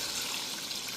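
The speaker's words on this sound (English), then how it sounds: "I'm gonna get some water. Yes, guys. I'm add the water." Water poured into a cooking pot for Trinidadian curry goat, a soft steady trickling stream, faint and brief with no talking over it.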